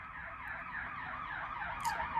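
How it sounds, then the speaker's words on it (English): A siren wails steadily in the distance in a city, its pitch sweeping up and down continuously with low traffic rumble beneath. "And now there's a siren passing by."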